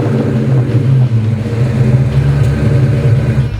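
A 1986 Mustang GT V8 with an upgraded camshaft and Bassani exhaust rumbles loud and close, a deep throaty engine note holding steady with slight swells as it is revved.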